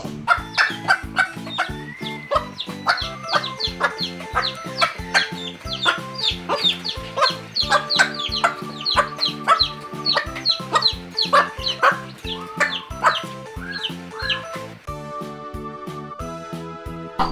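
A hen clucks busily and rapidly alongside other farmyard fowl, dense overlapping clucks and squawks close up, ending in a steadier repeated tone.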